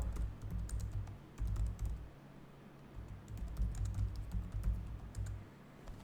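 Keystrokes tapped out on a computer keyboard as a search keyword is entered, a steady run of close, light clicks in uneven bursts with a low hum underneath.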